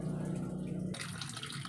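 Water pours into the tub of a Samsung automatic washing machine, a steady rushing flow that changes abruptly partway through to a brighter splashing pour.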